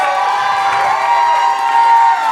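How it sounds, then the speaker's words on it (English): Loud crowd cheering and shouting with applause at a youth music year-end showcase, a sustained roar of voices filling the space. "If we can all just give a round of applause for them."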